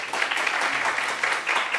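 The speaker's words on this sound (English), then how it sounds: "A round of applause for it," An audience at a university optometry research presentation applauds steadily in a short, even wash of claps, with no voice over it.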